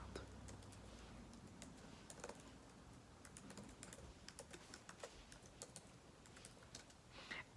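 Quick, irregular clicks of a computer keyboard as code is typed in a terminal, close and soft, with short pauses between bursts of keystrokes.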